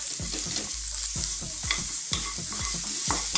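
Onions, garlic and ginger are stir-fried over high heat for a Chinese beef and green beans stir fry, sizzling loudly and steadily while a utensil scrapes and tosses them in a quick, repeating rhythm.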